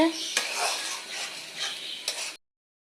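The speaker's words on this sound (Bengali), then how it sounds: "আমার মশলাটা দেখুন কষাচ্ছি আমি কষানো হয়ে যেতেছে" A spice paste and eggplant are stirred and sautéed in a pan. A steady sizzle runs under scraping, clinking strokes of the spoon, then everything cuts off abruptly.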